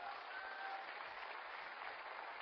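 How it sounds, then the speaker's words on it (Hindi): Audience applause at a Hindi business seminar in Lucknow, steady even clapping from a crowd, moderately distant and continuous. "जोरदार ताली दोस्तों"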